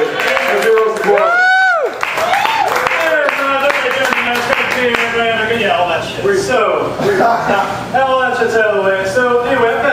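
A room full of people claps and cheers at an open mic comedy night in a cafe, while a voice talks over the applause the whole time.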